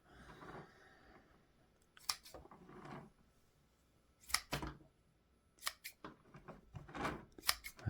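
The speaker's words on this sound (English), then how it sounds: "we're just going to trim them off." Scissors trim the new growth on a large jade plant in a series of separate sharp snips. They come alone in clusters with quiet pauses between them.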